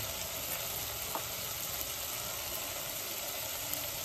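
Spices sauté with vegetables on a hot tava for street-style tava pulao, giving a steady close sizzle that stays even and uninterrupted, with no voices.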